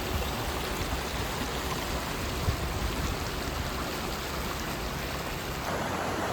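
Steady rushing flow of Paint Creek in West Virginia, a broad continuous wash of water close by with no talk, unchanging throughout.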